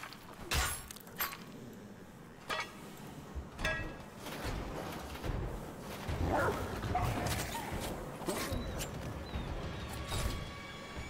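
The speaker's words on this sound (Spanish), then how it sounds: "Solo son perretes." Dogs in the Wolfenstein: The Old Blood video game bark in several sharp bursts with some yips, spread across a busy in-game soundscape, moderately loud.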